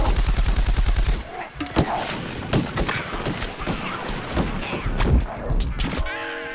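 Loud, rapid gunfire rattles through a Plants vs Zombies Garden Warfare match, with dense bursts of shots and impacts packed together almost without pause.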